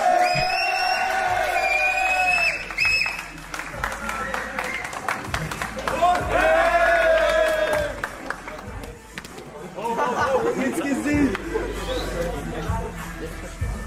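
Crowd cheering and clapping in an arena as kickboxer Engelsgesicht makes his ring entrance, a loud sustained roar with surges and dips, heard under voices talking.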